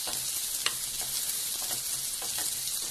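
Onion and capsicum fry in hot oil for baby corn Manchurian, a close, steady sizzling hiss with a few light stirring taps and clicks, no voices present.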